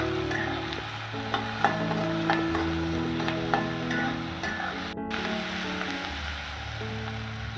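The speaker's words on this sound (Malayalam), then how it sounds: "ഇനി നമുക്ക് നന്നായിട്ടൊന്ന് വഴറ്റിയെടുക്കാം." Chopped shallots and salt are sautéed in a pan for a Kerala-style beef roast, a steady hiss with scattered stirring clicks beneath background music, and no one speaks.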